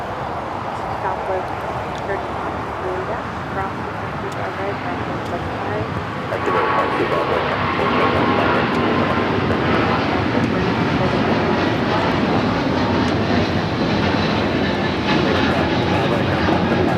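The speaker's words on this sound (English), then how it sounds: "This is United Airlines 1855 taking off to Newark on the 777-200ER in the Star Alliance livery." A United Airlines Boeing 777-200ER in Star Alliance livery taking off from LAX for Newark, a broad engine roar that jumps louder partway through and stays strong, with a voice talking over it.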